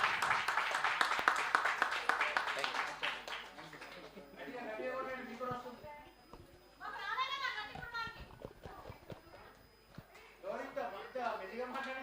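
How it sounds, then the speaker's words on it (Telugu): An audience at a lucky draw claps for a winner, a burst of dense applause at first that gives way to scattered claps and chatter, with voices of adults and children talking over it. "Claps please, claps."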